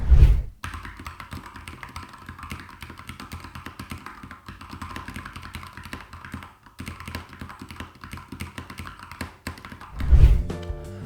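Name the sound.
typing on a mechanical keyboard with red linear switches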